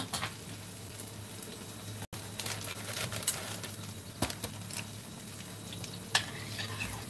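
Cornstarch-thickened cream sauce stirred in a pan, a steady soft scraping and sizzling patter running nearly throughout, with a few sharper clicks of the utensil against the pan.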